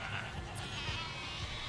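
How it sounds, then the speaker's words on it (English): Sheep bleating during a radio studio broadcast, moderately loud calls blended into a dense, hissy background. "The sheep are getting a little loud there."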